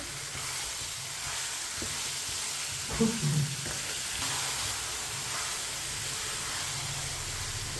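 Beef pieces for karahi gosht fry over a medium flame, making a constant loud sizzle and hiss while a spoon stirs them, with a few clanks partway through.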